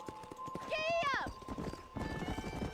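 Horse galloping in Red Dead Redemption, rapid clip-clop hoofbeats with a sharp whinny partway through, close and clear before the pounding hooves carry on.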